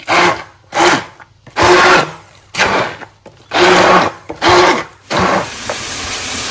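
A kitchen blender grinds pointed gourd peels into a bhorta paste in about seven short, loud, whirring pulses with brief silent gaps between them.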